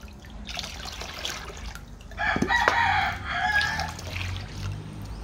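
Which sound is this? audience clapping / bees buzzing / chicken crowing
chicken crowing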